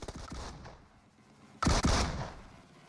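DBS shotgun blasts in a PUBG Mobile match, a few loud booming shots heard up close with decaying echoes, no voices.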